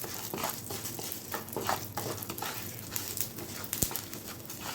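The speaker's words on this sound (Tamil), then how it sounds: "நம்மளோட ஜவ்வரிசி நல்லா பொரிஞ்சு வருது" Nylon sago pearls fry in ghee in a pan as they are stirred, a steady close sizzle with rhythmic scraping and rustling strokes of the spoon through the pearls, and no talking.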